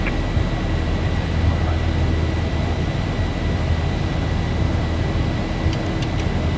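In the X-Plane simulator, the jet engines of a Zibo Boeing 737-800 roar as a broad, steady rumble, heard from the cockpit and holding a constant level with no voices.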